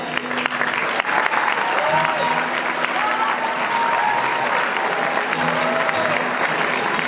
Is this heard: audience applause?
yes